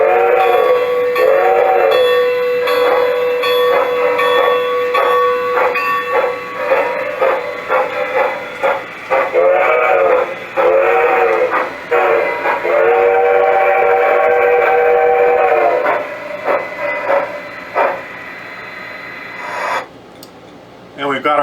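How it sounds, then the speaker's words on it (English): A PIKO model steam locomotive's digital sound decoder plays a crossing whistle pattern of long and short blasts, loud and close, over a steady chuffing hiss, with a brief pause near the end. "it's going to give us the proper crossing signal whistle"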